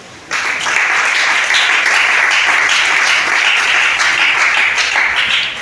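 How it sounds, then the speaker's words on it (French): A church congregation breaks into applause, dense sustained clapping that starts abruptly and holds at an even, loud level throughout. "Acclame le prochain."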